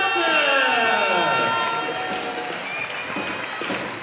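Handball crowd in a Kisvárda arena applauding after a seven-metre goal, loud sustained clapping and crowd noise, with a commentator talking over it throughout.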